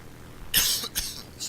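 A man coughs a few times close to the microphone during a War Thunder flight game session: one harsh burst followed by two shorter, quieter coughs against a faint background.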